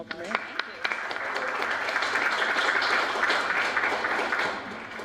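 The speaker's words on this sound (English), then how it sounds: "a warm round of applause and welcome Anna" Sustained, fairly loud applause from an evening audience in Toronto welcoming Anna Dopico to a book-signing talk, with a few sharp claps at the start building into steady clapping.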